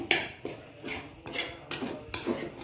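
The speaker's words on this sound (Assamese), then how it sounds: "আপোনালোকে লৰাই থাকিব, কাৰণ কেৰাহী লাগি যাব পাৰে।" A spoon scrapes and stirs a thick coconut kalakand mixture in a metal kadai over a low flame, giving about six rhythmic, close metallic strokes with short pauses between them.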